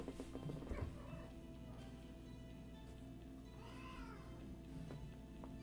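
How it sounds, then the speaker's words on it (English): Cats fight indoors with a few drawn-out yowls and caterwauls, faint and somewhat distant, one rising and falling wail standing out amid low room noise. "My cats are fighting."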